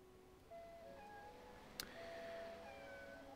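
A house cat meows at a window, with faint, thin drawn-out cries rising over quiet room tone and one short click midway.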